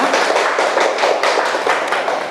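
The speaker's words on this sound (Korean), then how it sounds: "우리 수고하는 간사님께 박수 부탁드리겠습니다" An audience at a church training session claps for the staff leader, a dense, steady round of applause lasting a couple of seconds.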